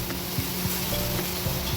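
Boiled moong dal stirred into a simmering curry in a pan, with a steady close sizzle and soft scraping strokes of a spoon against the pan.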